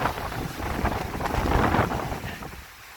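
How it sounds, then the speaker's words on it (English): Strong wind gusts rush across an open farm field in a storm, buffeting the microphone with a loud, rumbling roar that swells and fades over a few seconds. "those winds come ripping across that field"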